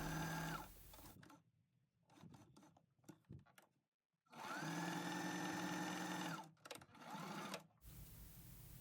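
A sewing machine stitches cotton fabric for a snap-button keychain wallet with a quarter-inch seam and short stitches, running in several quick bursts and one longer steady run, close and fairly quiet.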